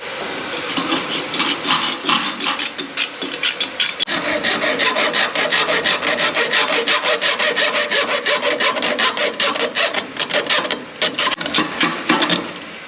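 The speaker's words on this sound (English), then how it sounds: "I'm gonna cut it with a hacksaw" Rapid, rhythmic back-and-forth hacksaw strokes cutting through a belt feeder cable grind steadily and loudly for the whole stretch, harsh and rasping, with no pauses.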